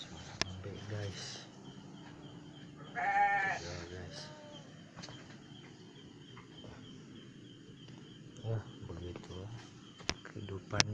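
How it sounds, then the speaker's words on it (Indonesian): Goats bleat a few times at night, soft and somewhat distant, wavering cries rising briefly over a quiet background of insects, with a person talking quietly in between. "Depannya guys ada suara kambing guys, tuh kambingnya enggak tidur, belum ngantuk kali tuh suara kambing guys."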